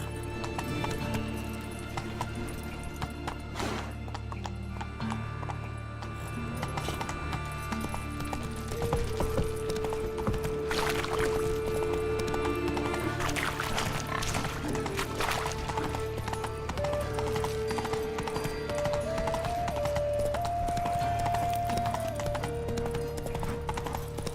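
Horse hooves clip-clop steadily in The Witcher 3, a continuous rhythmic beat under soft in-game music, with a brief neigh partway through.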